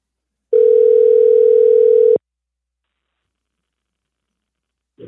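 A telephone dial tone sounds as a call is placed, one steady, clear electronic tone lasting about a second and a half before cutting off abruptly, followed by silence and a faint click.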